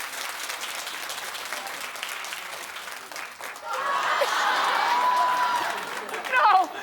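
A studio talk show audience claps together, a sustained burst of applause swelling in the second half and fading near the end, with faint murmuring beneath.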